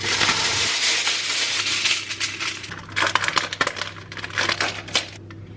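Kitchen foil crinkles and rustles close by as it is handled and spread over a metal baking tray, with sharper crackles and a few light metallic taps near the end.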